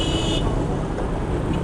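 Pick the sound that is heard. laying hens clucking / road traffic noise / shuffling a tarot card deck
road traffic noise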